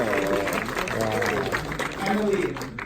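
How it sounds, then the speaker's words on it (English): An audience at a Mary Poppins Returns Q&A breaks into a round of applause, steady clapping running throughout under voices that keep talking over it. "Round of applause for Mary Poppins."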